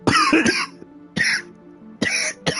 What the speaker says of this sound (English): I still have some sort of a stupid lame cough